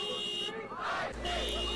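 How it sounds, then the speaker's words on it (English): Steady electronic car alarm tone in a video game, held throughout at moderate loudness under crowd noise and a voice. "Car alarm going on."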